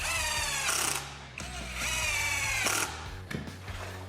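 A power drill drives screws through pocket holes into wood, whirring in short bursts with brief pauses between them, close and clear.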